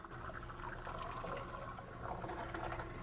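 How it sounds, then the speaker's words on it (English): Water flowing down a kitchen or bathroom drain just cleared with a Power Plumber aerosol plunger, a steady close rushing and gurgling wash that runs alone for the full few seconds. "Listen to the drain flowing."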